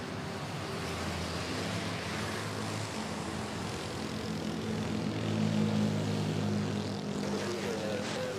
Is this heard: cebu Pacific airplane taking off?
yes